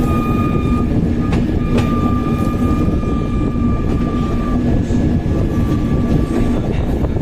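Steady rumble and rattle of a train running on rails on an overnight sleeper journey from Bangalore to Palakkad, continuous and loud, with faint tonal squeals above the rolling noise and no talking.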